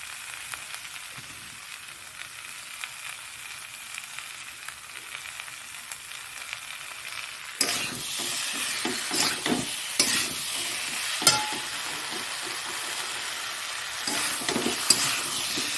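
Spices tipped into a hot pan for a small-fish curry, with quiet frying at first and then louder sizzling and stirring scrapes from about halfway, close and uneven.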